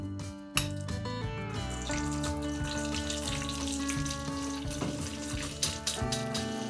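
Buttermilk chicken pieces frying in a pan of hot oil give off a steady, fairly faint crackling sizzle, broken by a few sharper pops.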